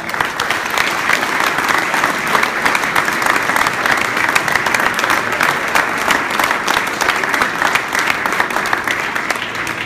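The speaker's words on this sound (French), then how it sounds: "Donc j'aimerais qu'on l'applaudisse très très fort." Loud, sustained applause from a large audience at a New Year's greetings reception in the Paris city hall, dense steady clapping filling the whole stretch without letting up.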